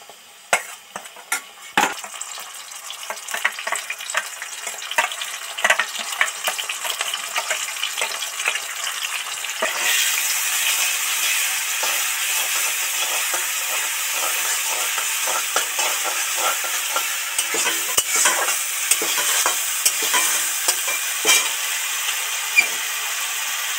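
Spiced vegetable batter frying in hot oil for a pumpkin and papaya labra, a steady close sizzle that swells louder partway through, with scattered clicks and stirring scrapes and no talk.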